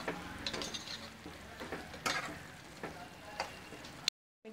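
Spice powders of dry ginger, cardamom, cumin and pepper being stirred into a bubbling mixture in a pot, soft scraping strokes and light clinks over a low simmer, ending abruptly in silence.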